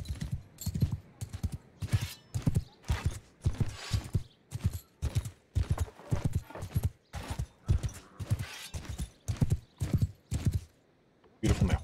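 Horse hooves clip-clop in a steady, loud walking rhythm in the video game Mount & Blade 2: Bannerlord, each strike sharp and close, with brief pauses near the end.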